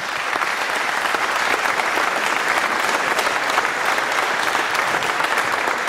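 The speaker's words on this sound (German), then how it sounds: "also einen herzlichen Applaus" A crowd applauds steadily at a radio Frühschoppen event in Murau, Austria, a dense wash of clapping that stays loud and even from start to finish.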